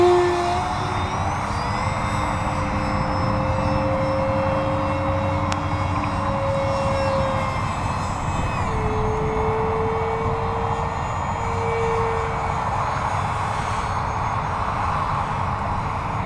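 A Nitroplanes RC model F-18 jet flies slow circles in a crosswind at under half throttle, its electric whine steady and loud, rising and dipping in pitch as it banks, with no talking.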